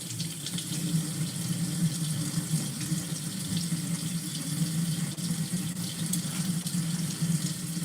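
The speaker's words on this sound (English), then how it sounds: "I'm just rinsing them, remember, this is just a rinsing process" Steady water runs from a tap while raw chicken thighs are rinsed at a sink, a constant close hiss and splash with no talking.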